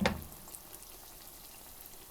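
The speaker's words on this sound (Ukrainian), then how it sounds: "Смажить на невеликому вогні, щоб не погоріли." Meat-filled belyashi frying in oil in a pan over low heat give a steady, quiet sizzle after a brief louder crackle at the start, with no talking.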